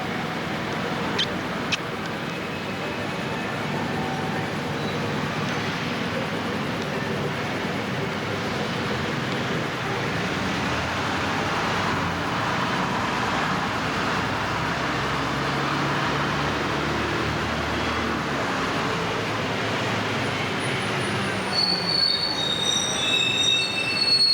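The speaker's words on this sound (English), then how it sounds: "We're down in Piccadilly Circus." Train wheels squeal loudly and steadily against the rails around Piccadilly Circus, London, with rolling rail and carriage noise throughout and brief high screeches near the end.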